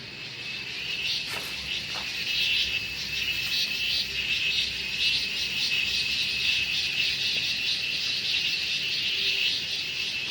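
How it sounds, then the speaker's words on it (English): Cicadas in Munnar, Kerala, buzz in a constant, shrill drone that stays loud and steady throughout, heard from a hotel balcony, with faint background noise and no talking. "You know that sound coming from? That is cicada."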